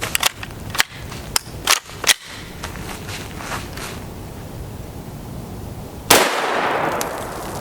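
Several sharp, loud shots from a CZ Evo pistol firing 9x19mm Geco 115gr JHP rounds, spaced in an irregular rhythm over the first two seconds, followed by a quieter stretch and then one louder report with a long, hissing tail.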